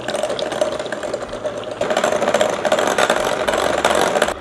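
Electric hand mixer beating butter for a lemon blueberry cake: a loud, continuous motor whir with a rough churning texture that steps up in intensity partway through, no talking.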